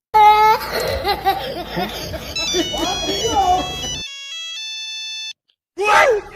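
A tonal mobile ringtone plays at the start under loud laughter and voices, then sounds clearly alone with steady electronic notes before voices return.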